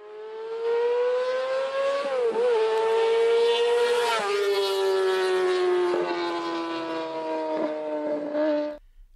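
A four-stroke motorcycle engine with a 19,000 rpm red line screams at very high revs in a sustained, loud, buzzing wail, its pitch dipping briefly with gear changes before cutting off.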